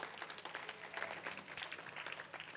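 A crowd claps steadily for a man being honoured at a village felicitation of Reliance School players in Jhajjar district, a dense, even patter of many hands that continues throughout.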